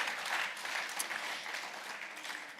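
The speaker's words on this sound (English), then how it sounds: "Another round of applause for our management team and our CFO." Conference audience at a bank's capital markets day gives a round of applause, a soft, even wash of many clapping hands heard from a distance that fades slightly toward the end.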